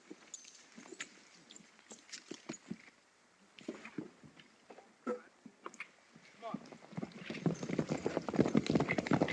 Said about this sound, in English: Get on your horse, Steve.